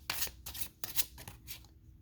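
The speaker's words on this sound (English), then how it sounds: "this is how easy it is to shuffle, by the way. I'm an overhand shuffler." Tarot deck being overhand shuffled, a run of quick papery card riffles and slaps in close bursts, crisp and near with no talking.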